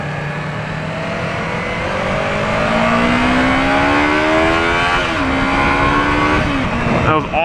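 A Yamaha R3 320cc motorcycle engine revs hard at full throttle, a loud, close, continuous whine climbing steadily in pitch and holding high before dropping briefly as it shifts, with wind noise throughout.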